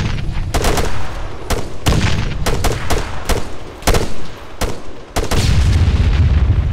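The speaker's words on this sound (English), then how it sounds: "Quit throwing frags." Frag grenade explosions in the ArmA 3 video game: a loud, rapid series of sharp blasts and booms, about a dozen close detonations in under seven seconds, with rumbling between them.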